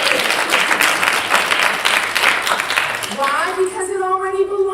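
Church congregation applauding, a burst of dense clapping that fades after about three seconds as a speaker's voice takes over.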